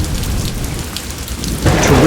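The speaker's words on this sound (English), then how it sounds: "Torrential rain threatens to wash away the delicate fungal galleries." Torrential tropical rain pours down in the Amazon rainforest, a dense steady hiss of drops hitting surfaces that swells louder near the end, with low thunder-like rumble beneath.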